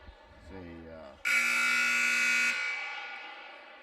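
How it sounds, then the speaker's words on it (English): A loud electronic buzzer at a QRCS versus Westlake game blares steadily for about a second, with a sustained harsh tone over crowd noise and a voice heard faintly beforehand. "I want to cover my ears when the buzzer goes"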